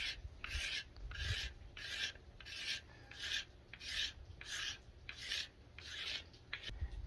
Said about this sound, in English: just using this as a card, I can get nice shavings